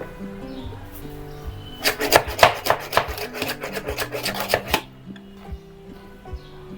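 Garlic is being crushed and chopped for a raw mango pickle, a quick burst of a dozen or so sharp knife strikes on a board lasting about three seconds, close and fairly loud, with quiet tonal sounds before and after.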